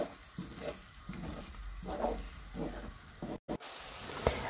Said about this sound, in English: Now gently mix the eggs and let the eggs kind curdle up